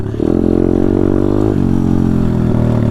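A pit bike engine revs loud and close, a steady buzzing rasp that holds its pitch, dips briefly, then climbs back.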